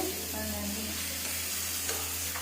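Tomatoes frying in oil for vada curry, a steady faint sizzle with light stirring scrapes, close and continuous with no voices.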